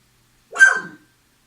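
A single short bark rings out once, clear and fairly close, with silence before and after.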